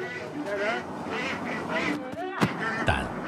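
Ducks out in farm fields near Chengdu give loud, repeated quacks, several close calls in quick bursts, heard beneath continuous talking.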